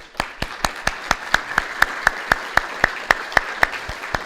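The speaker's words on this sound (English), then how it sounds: "So please give them a round of applause." Evenly spaced sharp claps, about eighteen in a steady rhythm, sound close and distinct after a housing panel discussion, more like one person clapping in time than a full audience.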